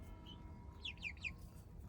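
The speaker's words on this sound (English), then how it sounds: "here are my 7 chickens" Several young chickens in a new backyard coop give a few short chirping calls in quick succession over a steady low background hum, fairly faint and with no talking.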